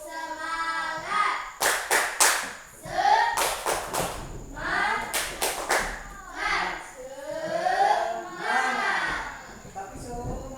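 Students in a classroom perform the 'tepuk semangat' clapping routine, sharp bursts of group claps in rhythmic clusters alternating with children's chanting voices.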